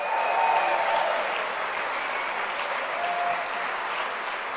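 A church congregation applauds, with dense, steady clapping that fills the room at an even loudness and tapers slightly toward the end.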